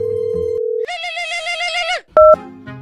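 A phone call being placed: a steady electronic dial tone, then a warbling ringback-like tone, followed by a sharp beep and brief tones, loud and close with no voices.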